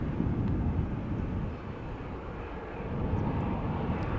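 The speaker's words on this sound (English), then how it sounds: "KLM 737 is going to the runway threshold." A KLM Boeing 737 airliner taxis toward the runway threshold at Amsterdam Schiphol Airport, its engines a steady, broad, far-off roar that dips briefly midway and swells again, with no talking.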